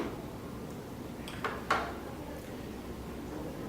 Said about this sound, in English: To open the service door, you'll see a button on the side of your NAS.